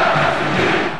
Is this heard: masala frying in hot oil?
no